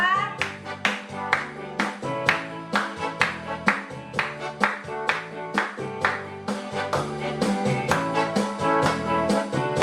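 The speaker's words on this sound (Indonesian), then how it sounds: "Semuanya tepuk tangan ya." Rhythmic hand clapping keeps a steady beat along with loud music, with a sharp repeating clap pattern over layered instruments throughout at a children's church gathering with family members.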